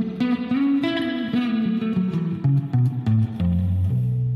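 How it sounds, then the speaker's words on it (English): A Squier Bass VI six-string bass played through spring reverb, with a sustained melodic line of plucked notes drifting through the mid and upper register. The notes ring alone and steadily, each one carrying a reverberant tail. "You can turn on some spring reverb and..."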